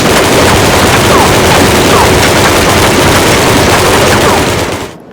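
Loud, dense bursts of rapid gunfire and blasts fill the clip nonstop, a harsh, continuous clatter of shooting.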